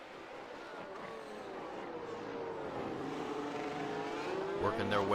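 F1 race cars in a video game round the hairpin at Hockenheimring, their engines building from a low whine to a rising, loud howl as they accelerate, with commentary talk over them.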